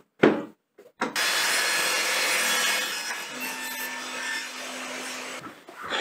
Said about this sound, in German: Die Kante werde ich noch abschrägen, damit das eben wie ein Keil